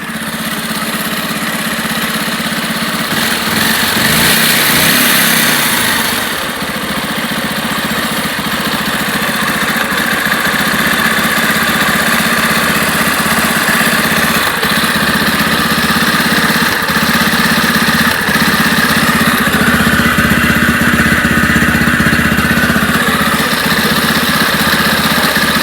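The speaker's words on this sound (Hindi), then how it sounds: "इंजन असेंबल करने के बाद में आपने साउंड सुन लिया" A freshly reassembled Bajaj Pulsar 150 BS6 motorcycle engine idles steadily and close by, a constant mechanical rumble with a slight uneven throb running throughout, no voices.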